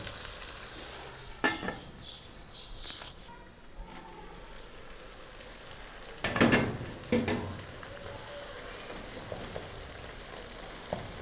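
Tomatoes cook down in a pot for aloo gosht salan, a soft continuous sizzle broken by a few louder scraping stirs and clanks of a spoon against the pot.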